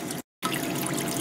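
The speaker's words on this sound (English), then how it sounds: "my water level is a little too low, my flow is a little too slow" Water flowing steadily through a blue bowl gold concentrator, a close, continuous trickling wash that briefly cuts out for a moment before resuming with the same even flow.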